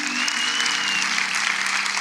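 Loud, sustained applause from a church congregation during a miracle service, a dense even wash of many hands clapping close by without a break.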